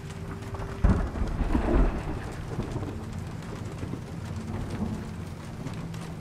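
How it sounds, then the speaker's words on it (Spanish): Stormy weather in the Peruvian jungle of Shadow of the Tomb Raider: steady rain hiss with a low thunder rumble swelling near the start, then a continuous wash of rainfall. "La tormenta se ve mal."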